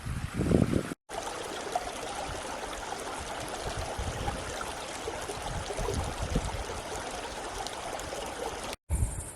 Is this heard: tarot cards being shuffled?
no